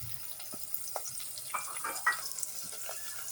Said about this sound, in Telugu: అలాగే కట్ చేసి పెట్టుకున్న ఆనియన్స్, పచ్చిమిర్చి వేసుకోవాలి. ఇవి వేసుకొని కొద్దిగా ఫ్రై చేసుకోవాలి.